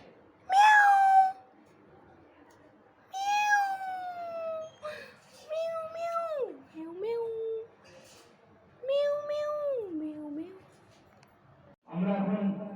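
A cat meows about four times, drawn-out, wavering calls separated by short pauses, up close and fairly loud, followed by a brief rougher burst at the end.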